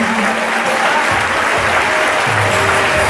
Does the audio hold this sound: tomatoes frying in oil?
no